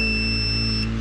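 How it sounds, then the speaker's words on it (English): A multimeter gives a continuous, loud, steady high-pitched continuity beep, held unbroken throughout with no talking. "my meter should be able to pick it up and say, "Hey, there's continuity.""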